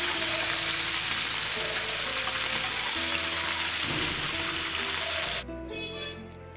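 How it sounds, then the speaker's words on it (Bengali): Small puti fish frying in oil for a radish and potato curry, a loud, dense sizzle that runs steadily then drops abruptly to a quieter hiss near the end, with no voices. "মাছগুলো এবার ভেজে নেব"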